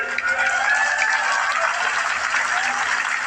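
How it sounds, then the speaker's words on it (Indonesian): An outdoor crowd at a speech rally in Gasibu breaks into applause, a dense, steady clatter of many hands close by that holds without pause, with a faint voice underneath. "Tepuk tangan semuanya, keren."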